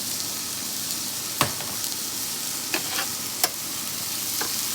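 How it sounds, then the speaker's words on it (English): Food sizzles and fries in olive oil in a pan on a home stove, a steady crackling hiss punctuated by a few sharp clinks and stirring knocks. "We're going to fry these up really good, and then we're going to put them in the soup."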